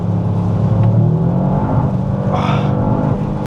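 A 1.6-liter three-cylinder rally car engine revs loud and close, holding a steady growl with a rising surge and a brief whistle midway.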